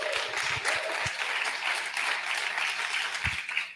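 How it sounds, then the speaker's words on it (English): Audience applause at a conference gathering, a dense steady wash of many hands clapping, loud and close, sustained throughout without speech. "Give her a round of applause."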